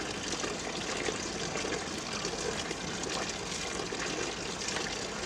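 Lemons for pickle are washed and scrubbed clean in water, giving a steady, faint trickling and sloshing of liquid throughout with no talk.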